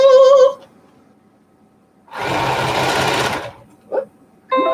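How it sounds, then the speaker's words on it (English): A sewing machine stitches the front and back of a fabric mask together in one loud, steady burst of a little over a second, framed by brief speech and a low air-conditioner hum. "now we sew the front to the back"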